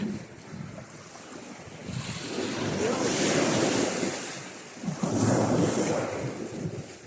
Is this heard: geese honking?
no